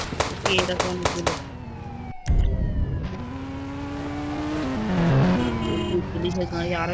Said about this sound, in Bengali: পুলিশের গাড়ি আরো একটা